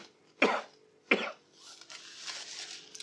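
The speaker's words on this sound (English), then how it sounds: "take a tissue and I'd like you to blow your nose and cough 3 times" Two sharp, close coughs about half a second apart, followed by quieter throat-clearing and breathy sounds, from a person doing a self-swab COVID test sample.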